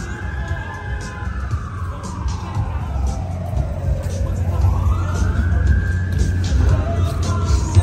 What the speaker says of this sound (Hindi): ये आ गया इमरजेंसी एम्बुलेंस का